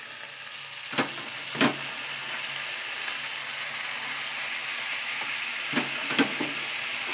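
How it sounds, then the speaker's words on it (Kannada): Ingredients for a radish sambar fry in a pan with a steady, moderate sizzle, broken by a few sharp scraping stirs of the spoon, with no talking. "ಇವಾಗ ಈ ಥರ ಫ್ರೈ ಆಗಿದೆ"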